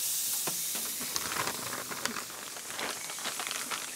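Marinated pork neck steaks hitting a hot Broil King gas grill, a continuous hissing sizzle with scattered crackles and pops, close and fairly quiet.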